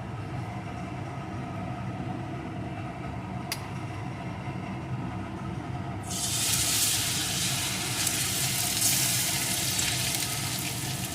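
A batter-coated duck egg drops into hot oil and bursts into a loud, steady sizzle of frying that fills the second half, after a quieter stretch of low kitchen background.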